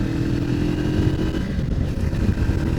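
A QJ Motor SRT 450 RX trail motorcycle engine runs up close, droning and revving with a steady rumble as it shifts into fourth gear.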